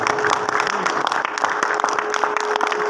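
Sustained audience applause at a motivational seminar continues at full strength, with a voice calling out over the clapping crowd.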